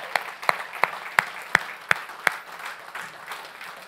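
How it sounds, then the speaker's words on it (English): Slow, sharp hand claps from a church congregation, about seven evenly spaced beats ringing out over a faint murmuring background, then the clapping stops and only a low room hum remains. "got a hand clap of praise, y'all"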